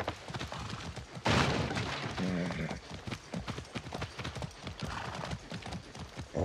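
Rapid clip-clopping hooves of a galloping horse in Far Cry 6, with a brief whinny and busy background sounds, occasional German-speaking voice under it.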